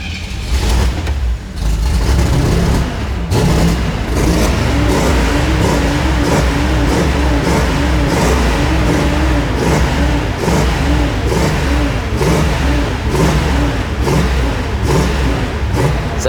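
A Pontiac Firebird V8 revving hard, a loud, deep, rough engine roar that swells and falls continuously, heard close with no talking.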